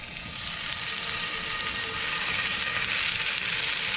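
Fondant potatoes frying in sunflower oil in a pan over medium-high heat, a steady, dense sizzle that holds close and loud for the whole stretch with no voices.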